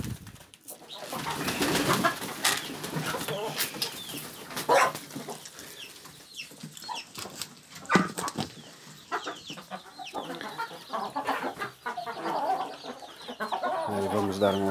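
Chickens at evening feeding time cluck and call close by in a farmyard, with busy overlapping bird sounds and cooing, sharp clucks rising and falling, and a person talking briefly among them.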